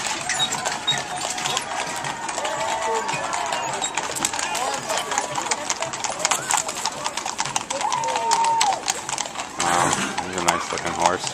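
Hooves of a horse pulling a trolley in a Heritage Days parade in Cardston clip-clop in a steady, brisk rhythm, with bird calls and crowd noise around them outdoors.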